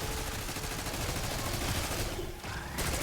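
Sustained automatic assault rifle fire in Black Ops 6 Zombies, a dense, steady stream of shots that breaks off briefly near the end before resuming, moderately loud with no voices.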